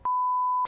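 A single steady censor beep bleeps out a swear word during podcast chat, lasting just over half a second, loud and clean with the talk cut off on both sides.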